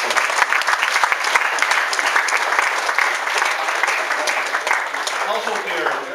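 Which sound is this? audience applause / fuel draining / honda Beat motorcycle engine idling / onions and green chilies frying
audience applause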